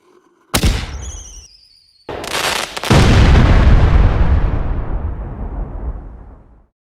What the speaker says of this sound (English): Did that firework just hit Santa?